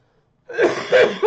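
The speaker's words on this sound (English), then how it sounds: "I still got a cough." A few harsh, throaty coughs close to the mic, three bursts in quick succession after a brief silence.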